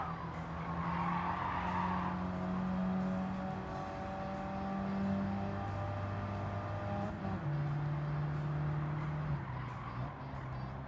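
AI race cars from Gran Turismo 7 brake hard with tires skidding and squealing over droning engine tones that shift in pitch as they slow, continuous and close.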